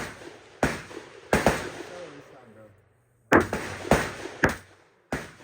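Gunfire at an outdoor gun range: sharp, loud reports crack out one at a time, about seven shots in uneven bursts, each trailing off in a brief echo, with a short quiet gap in the middle.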